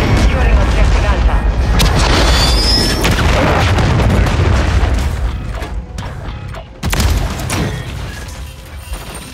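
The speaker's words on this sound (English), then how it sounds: "Friendly cruise missile approaching." Heavy cruise missile strike in Modern Warfare 3 on the Shipment map, a long loud booming rumble with crashing debris that fades, then a second sharp blast, under scattered game voice callouts.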